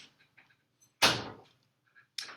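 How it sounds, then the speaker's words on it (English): A door swings shut with one loud, close bang in a quiet room, preceded by faint shuffling and followed by a second sharper knock or latch sound. "Close the door!"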